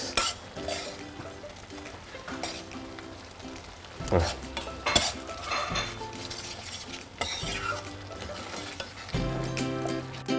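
Bean stew cooked with ginger spices simmering and sizzling in a pot while a utensil stirs it, with occasional clinks against the pot; steady, close and fairly loud, with no talk.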